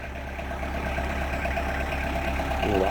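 A Talbot engine idles with a steady low rumble and a rough, rattling texture, close by and continuous throughout.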